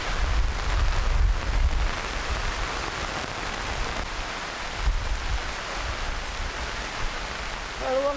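Heavy rain with strong wind lashes a jungle campsite in Borneo, a steady dense roar that continues without a break, with a few louder gusts and no talk over it.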